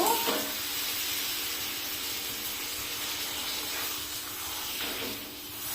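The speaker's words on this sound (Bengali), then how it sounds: "এবার জল ঢেলে দেবো।" Water poured into a hot pan of sizzling potato and pea curry, a broad steady hiss and sizzle with steam, fairly quiet and close, tapering slightly near the end, with no voices.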